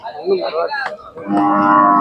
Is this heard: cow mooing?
yes